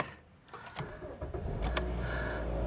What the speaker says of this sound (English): I'll actually jump in the car so that we can start it